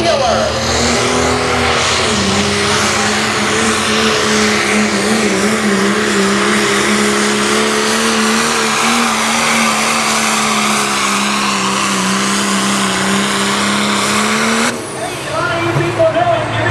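A Dodge Ram with a Cummins diesel engine pulls at an evening limited pro diesel truck pull in Mt. Vernon, Ohio, a loud sustained roaring drone that holds steady for many seconds, then drops off near the end, with an announcer talking over it.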